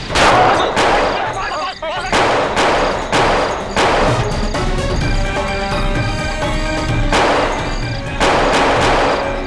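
Loud bursts of gunfire ring out in a scene from the Indian TV crime drama CID. Several sharp shots come in quick groups over a steady musical backdrop, with a voice briefly heard.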